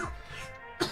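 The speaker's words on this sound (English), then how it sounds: "I'm very sorry for the coughing." A short, rough cough bursts out close by, with a sharper catch at the end.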